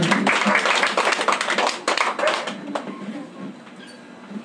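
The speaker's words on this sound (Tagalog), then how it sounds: "Palakpakan natin ang malakas ang Panginoon." Congregation clapping loudly together at an evening El Shaddai healing service in a home, dense steady applause that thins out and fades toward the end.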